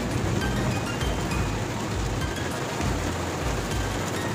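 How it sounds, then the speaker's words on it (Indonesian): Heavy rain drums steadily on a car while driving along a road, a dense continuous hiss with a low rumble beneath, loud and close with no voices. "Dalam perjalanan kali ini hujannya deras teman-teman"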